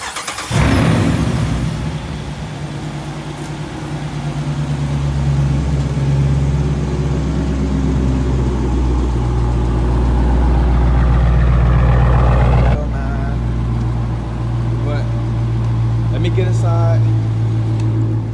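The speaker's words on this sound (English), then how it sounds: "I'm gonna give y'all boys a little cold start real quick" A Dodge Challenger R/T V8 with no resonators or mufflers cold-starts with a sharp crank and burst, then settles into a loud, deep, rumbling idle that holds steady before dropping slightly near the end.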